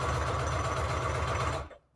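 A sewing machine stitching paper tags for a junk journal runs in a steady, rapid motor whir with fast rhythmic needle pulses, loud and close, stopping abruptly near the end.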